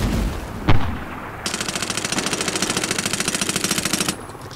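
Rapid semi-automatic sniper rifle fire in the Medal of Honor: Warfighter game, a loud burst of evenly spaced shots lasting a few seconds after one sharp single crack.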